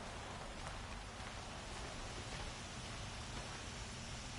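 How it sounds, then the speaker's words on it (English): Steady rain in the video game Horizon Zero Dawn, a dense, even hiss of falling drops that fills the whole stretch without any pause or voice. "Rain's easing."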